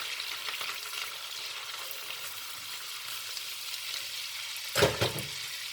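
Garlic and ginger sizzle and fry in a pan with ghee for mung dal, a steady crackling hiss throughout, then a brief louder clatter of stirring near the end.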